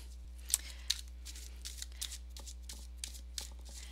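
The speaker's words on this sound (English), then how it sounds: "Let's keep pulling some cards for my Leos." Tarot cards drawn and handled during a zodiac reading: a few soft, brief card flicks and slides against a steady low hum, quiet and close, with no one talking.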